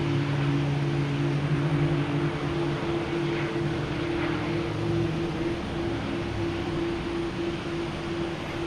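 A KLM airliner at Boston Logan Airport gives a continuous broad jet roar with steady engine tones, heard from a distance and holding even throughout, with no talking.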